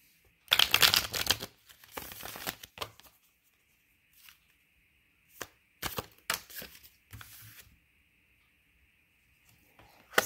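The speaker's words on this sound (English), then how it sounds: "So let's pull some more cards and see." Tarot cards are shuffled and pulled from the deck, with quick riffling bursts and sharp flicks and slaps up close, separated by quiet pauses under a faint steady hum.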